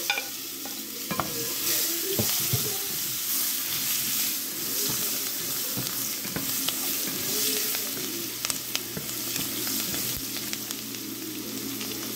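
Garlic and onion fry in a pan with a steady, close sizzle and occasional stirring scrapes, alone without any voices.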